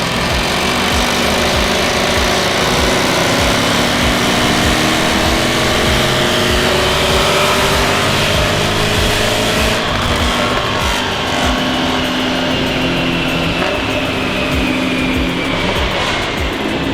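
A remapped Jaguar F-TYPE SVR with new crank pulleys runs strapped to a dyno, giving a loud, unbroken engine roar with pitch slowly climbing and shifting across the whole run.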